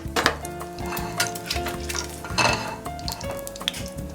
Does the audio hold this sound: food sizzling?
yes